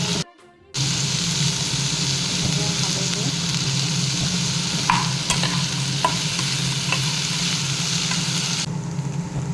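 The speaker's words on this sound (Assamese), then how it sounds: "এইখিনি মই ধুনীয়াকৈ ল' ফ্লেমত অলপ সময় ভাজি ল'ম" Continuous sizzle of drumsticks frying in a pan on low flame with salt and turmeric, at close range, with occasional clicks and scrapes from stirring.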